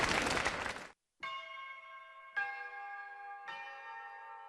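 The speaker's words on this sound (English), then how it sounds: "Bells will be ringing" Church bells ring out in three distinct struck peals, each with a long resonant decay, following a brief burst of broadband noise at the start.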